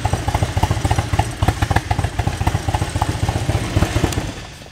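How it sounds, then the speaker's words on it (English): A 2001 Harley-Davidson Ultra Classic with 102,000 miles idles close by, its loud, lumpy, uneven pulses repeating steadily throughout. "Great sounding bike."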